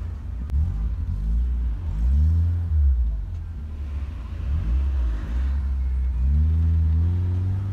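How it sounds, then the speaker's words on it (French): A 1988 BMW car engine runs close by with a loud, steady rumble, rising and falling through several revs that sweep the pitch up and back down. "Et ça c'est une voiture de 1988."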